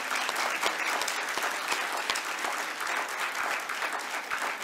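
An audience claps during a yoga session on women's health, a continuous patter of many hands with sharper individual claps standing out close by, steady and loud from start to finish.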